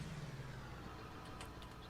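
A tractor engine in Farming Simulator 19 runs at a low, steady hum, quiet and continuous with no voices over it.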